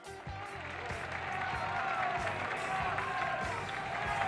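Ecstatic crowd of thousands cheering in Montréal, a dense, sustained roar of voices and clapping that swells slightly and holds steady throughout.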